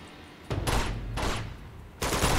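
Machine gun fire in Uncharted 2: Among Thieves, in a monastery level, coming as three sustained bursts of rapid automatic shots, loud and close, with short quieter gaps between them.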